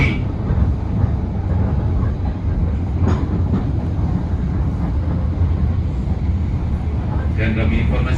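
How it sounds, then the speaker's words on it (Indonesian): Rumble of a vintage locomotive-hauled passenger train pulling into Kediri station, a steady low rail roar throughout with faint clanking and a brief higher screech near the end. "Kereta api berantas akan segera sampai dan berhenti di stasiun"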